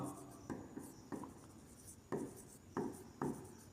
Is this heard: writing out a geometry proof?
yes